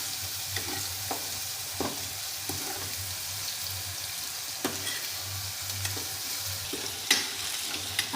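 Onion fries in a pan for shev bhaji with a constant bright sizzle, punctuated by scattered stirring clinks and scrapes at irregular intervals, no voices.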